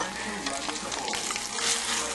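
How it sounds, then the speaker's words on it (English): Butter sizzling in a hot frying pan for an egg steak sandwich, with a loud, close, continuous crackling fry and spattering hiss, plus light stirring and scraping sounds. "Chunk of butter."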